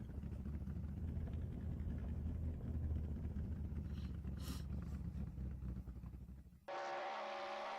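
Engine of a 1967 Corvette 427R rumbling at low speed along the pit lane at Sebring in the Assetto Corsa racing game, a steady, moderately loud drone that cuts abruptly to a different tone near the end.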